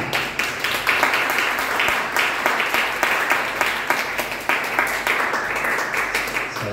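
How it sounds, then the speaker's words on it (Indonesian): Young people in a church congregation clap together, a loud, steady wash of hand claps with rhythmic accents running throughout. "Ayo yang anak-anak muda tepuk tangan dulu"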